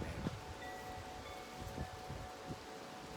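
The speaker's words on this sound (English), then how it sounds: "I hope it's not too windy, man." Outdoor wind buffeting a microphone, a low rumbling roar with occasional gusty thumps over a few seconds, no voices present.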